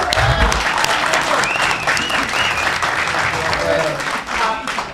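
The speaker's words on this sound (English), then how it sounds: "You better give me a big round of applause or I don't pay you!" Applause fills the room at a Combate Américas mixed martial arts event in Fresno, a loud, steady crowd clapping with cheers and whistles mixed in, while voices talk and shout over it.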